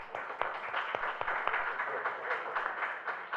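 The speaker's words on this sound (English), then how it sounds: "Come on, let's give a round of applause." Round of applause from the audience at a financial legacy conference panel, a sustained patter of many hands clapping at moderate, somewhat distant level with a few sharper claps standing out.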